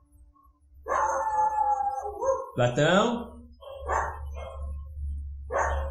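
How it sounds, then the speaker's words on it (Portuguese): Dogs barking and howling, several loud, close barks and a drawn-out howl, with someone speaking in between. "Eu falo com esses cachorros e eles começam a latir ainda mais."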